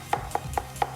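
A knife mincing garlic cloves on a cutting board: four evenly spaced, crisp chopping taps at a steady rhythm, close and fairly quiet with no talk.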